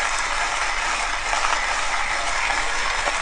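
Coffee beans ground in a Hario Skerton Plus manual burr grinder with ceramic burrs set to a very fine grind, making a steady, continuous close-up grinding rattle that never pauses.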